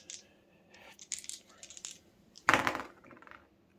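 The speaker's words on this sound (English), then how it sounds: "2 white dice for Rick." Two white dice tumble and clatter across a tabletop during a Walking Dead: All Out War miniatures game, with light clicks and rattles building to one loud bright burst of impact, while players speak quietly in the background.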